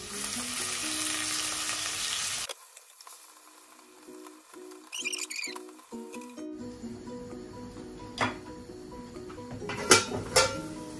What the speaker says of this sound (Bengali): আমি পেঁয়াজ যখন দিলাম, কারণ পেঁয়াজের সাথে সাথে রসুনটাও ব্রাউন হয়ে যাবে